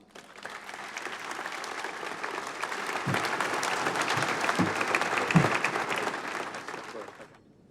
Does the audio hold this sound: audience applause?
yes